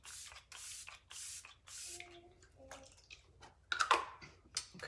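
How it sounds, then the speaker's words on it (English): Makeup setting spray misted from a pump bottle: four or five short, close hissing bursts in quick succession, followed by quieter handling clicks and rustles, with no talking. "setting your makeup with a setting spray, especially after we finish with powders and stuff, is the absolute best way to get your makeup to look perfect all day"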